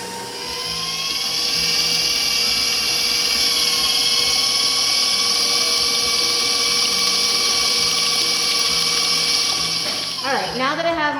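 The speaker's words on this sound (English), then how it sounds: "What I'm going to do now is just quickly blend them together." A stand mixer with a paddle whirs loudly and steadily as it blends eggnog loaf batter of oil, rum and vanilla extracts in a culinary school kitchen, then winds down, and a voice follows.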